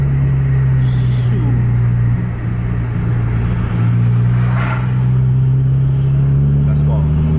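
A Volvo or Scania intercity bus engine on a long-distance highway run, a steady loud low drone with strong harmonics holding throughout as it pulls hard under throttle, with brief hiss bursts and faint traffic noise around it.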